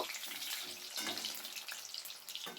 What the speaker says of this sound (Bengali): এবার আমি উল্টে পাল্টে ভালো করে ভেজে নেব